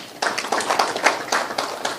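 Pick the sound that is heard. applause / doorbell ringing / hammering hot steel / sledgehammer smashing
applause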